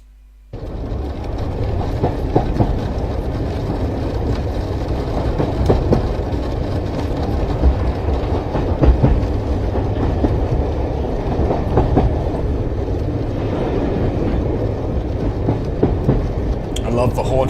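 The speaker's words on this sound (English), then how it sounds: "I love the haunted train sounds." A train rumbles with a rhythmic clickety-clack of wheels on rails, used as a haunted-train sound effect. It starts abruptly after a brief near-silence and holds loud and continuous throughout.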